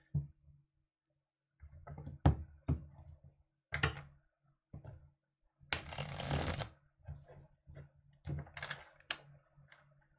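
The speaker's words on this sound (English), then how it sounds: "I'm gonna shuffle" Tarot cards being shuffled in several quick riffling bursts, close up, with brief pauses between them and a longer continuous riffle in the middle.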